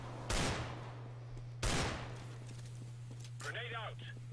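Two loud bursts of gunfire in the video game CS:GO on the Cache map, each a sharp crack with a short tail, over a steady low game hum and a brief electronic effect near the end.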